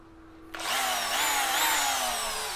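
A Bosch three-function hammer drill revs up from idle into a steady high-pitched whine, loud and close, running continuously with no voices.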